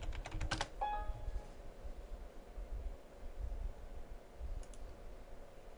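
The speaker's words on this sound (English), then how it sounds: "and then you type in your password." Someone enters a password on a computer keyboard: a quick cluster of clicking keystrokes at the start, then a lone faint tap near the end over a steady, hissy room background.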